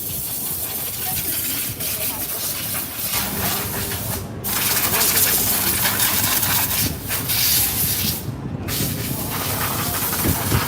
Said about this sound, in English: You can hear the compressed air out.